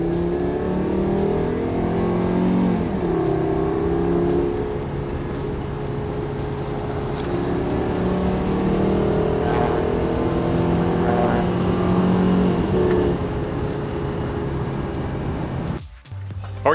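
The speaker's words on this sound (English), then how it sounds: "The car shifts amazing and we even sold it pretty quick" A Volkswagen car with a replaced transmission valve body drives along, its engine rising and falling as it moves through the gears, steady and close, with brief talk and then a sudden cut near the end.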